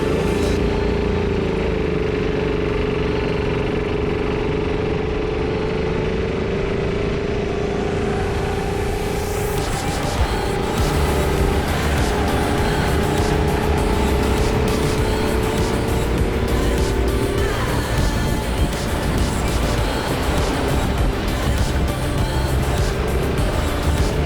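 Go-kart engines roar continuously at Wanneroo Raceway at the start of a race, a loud, close, high-revving whine that rises and falls with the throttle under heavy wind buffeting.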